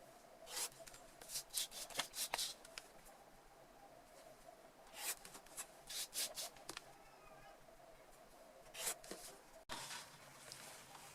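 A marker or chalk drawn across patchwork fabric makes soft, close rubbing strokes in short bursts with quiet pauses between, faint overall and with no talking.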